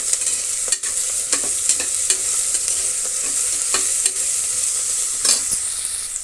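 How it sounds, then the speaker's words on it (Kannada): Ginger garlic paste fries with a steady, loud sizzle in a pan for a vegetable egg pulao, with repeated scraping stirs of a spatula breaking through the hiss. "ಈಗ ಅದರ ಜೊತೆಗೆ ನಾವು ಶುಂಠಿ ಬೆಳ್ಳುಳ್ಳಿ ಪೇಸ್ಟನ್ನು ಸೇರಿಸ್ತಾ ಇದ್ದೀನಿ."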